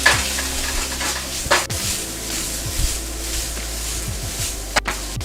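Bell peppers and onions stir-frying in a hot wok, a constant sizzle with a few tossing scrapes and clanks, close and unbroken, no talking.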